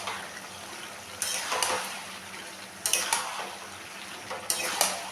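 Bottle gourd curry with fish head is stirred in a pan with a metal spoon, giving three separated bursts of scraping and clinking against the pan over a low simmering background, close by.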